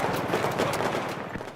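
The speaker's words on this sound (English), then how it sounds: "like a gunshot" Rapid video game gunfire crackles in a dense, echoing burst, loud and continuous for a moment with no talking.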